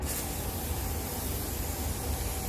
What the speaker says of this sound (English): I'm gonna spray everything and make sure it covers